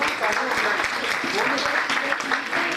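Audience applause at a seminar in Lahore, brisk and fairly loud, with a voice talking over the clapping throughout.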